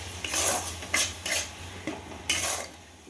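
A spice paste with tomato being sautéed and stirred in a pan for an aubergine pickle dish, with repeated scraping strokes of a spoon against the metal in an irregular rhythm over a low sizzle, close up.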